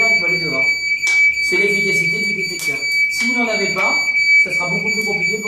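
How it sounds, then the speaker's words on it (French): A smoke detector alarm sounding after detecting smoke, a steady high electronic tone running continuously beneath someone talking in French close by. "le détecteur a pris la fumée, a sonné"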